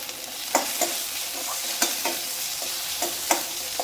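Crushed ginger, garlic and tomato sautéing in a hot pan, a constant sizzle punctuated by regular spatula knocks and scrapes about every half second, close with no voices.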